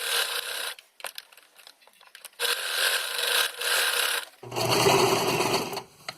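A domestic sewing machine runs in bursts while stitching a wide quilt stitch, setting 4: a steady, fast mechanical whirr that starts and stops, close and fairly loud, with no talking.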